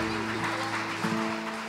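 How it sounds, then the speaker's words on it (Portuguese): Church congregation applauding briefly, a dense wash of clapping blended with sustained music chords and a murmur of voices. "Você pode aplaudir, aleluia."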